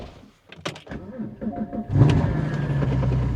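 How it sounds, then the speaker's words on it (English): A Porsche GT4 cold-starts with a loud exhaust: a few small mechanical clicks, then the engine catches and settles into a steady, loud, deep idle rumble close by. "this car, especially on cold start, sounds kind of obnoxiously and abnormally loud"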